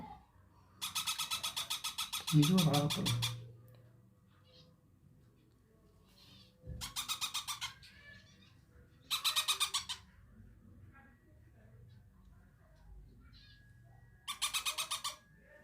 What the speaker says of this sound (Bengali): দেখো আমাদের ছোট বাচি পাখির বাচ্চাকে খাওয়ানো হচ্ছে